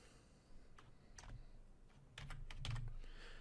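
Typing on a computer keyboard while setting up a Windows Server 2019 reverse lookup zone: quiet, close key clicks in small irregular bursts, growing slightly busier toward the end, with no talk.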